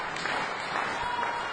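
A wrestling crowd applauding at a live match, steady clapping at moderate volume that carries evenly through the short stretch without pause.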